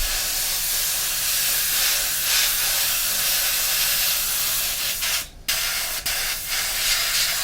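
Black spray paint hisses from a can onto a Tamiya 1/20 RB6 model, a steady close aerosol spray lasting several seconds, then cutting off with a couple of short bursts.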